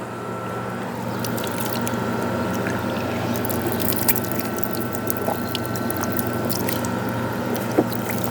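Cold water runs steadily from a village water tap near Makkah, Saudi Arabia, a continuous close rushing splash with faint drips and no talking.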